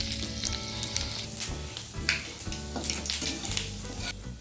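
Mustard oil sizzling in a pan with panch phoron and dried red chillies, a steady close crackling fry with occasional stirring scrapes, no voices.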